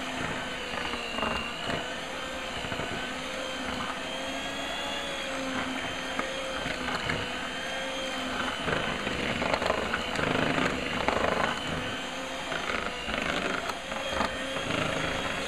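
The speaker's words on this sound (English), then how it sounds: "You just want to mix it really thoroughly, make sure everything's like blended smoothly." An electric mixer runs steadily, blending eggs into pizza gaina dough in a home kitchen, a continuous whirring drone with shifting tone as the beaters churn, fairly close and loud throughout with no talk.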